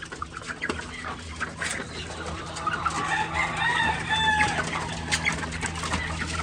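A group of young heritage breed roosters on a farm cluck and attempt to crow, several overlapping calls rising in the middle, over a steady low mechanical hum.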